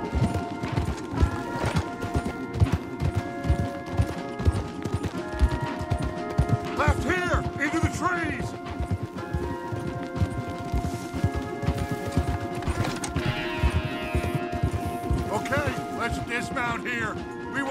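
Horses gallop hard in Red Dead Redemption 2, with steady rapid hoofbeats throughout, occasional whinnies and snorts on top, and a musical score underneath.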